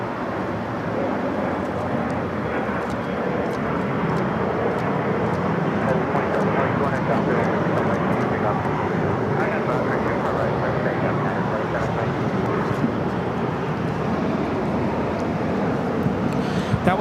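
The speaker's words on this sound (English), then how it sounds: "That was Alaska Horizon 2183 taking off to Las Vegas on the E175 in the Horizon Retro livery." An Alaska Horizon Embraer E175 jet in retro livery takes off at LAX, a steady, loud broadband engine roar that holds for the whole stretch, with faint voices mixed in.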